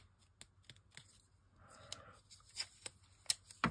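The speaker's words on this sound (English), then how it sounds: "I'll cut this bottom bit off first." Quiet snips and crisp rustles of scissors cutting through paper, a few sparse clicks early, then a papery scraping stretch and sharper cuts growing louder toward the end.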